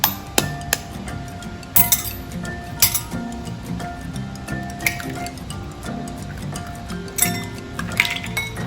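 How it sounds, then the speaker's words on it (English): An egg is cracked into a bowl for French toast, giving a few sharp shell clicks and taps spread over several seconds with soft wet squishes in between, close and fairly quiet, with no talking. "The first thing you need to do is crack the egg."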